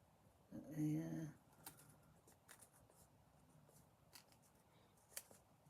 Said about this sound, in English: Oh, these are good scissors.